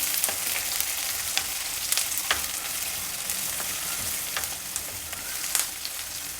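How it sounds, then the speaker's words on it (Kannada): Eight green chillies, slit lengthwise, frying in a pan of oil give a bright, continuous hiss and sizzle, with occasional sharp pops and a few light scrapes of stirring, heard up close. "ಎಂಟು ಹಸಿಮೆಣಸಿನ್ಕಾಯಿ ಹಾಕ್ಕೊಂಡಿದ್ದೀನಿ ಉದ್ದಕ್ಕೆ ಕಟ್ ಮಾಡಿ ಹಾಕ್ಕೊಂಡಿದ್ದೀನಿ"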